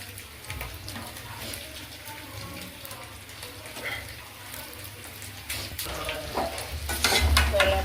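Small bone-in chicken pieces sizzle and spit in a hot pan, a dense continuous fry with scattered crackles and utensil scrapes that grows louder toward the end, close by and without speech.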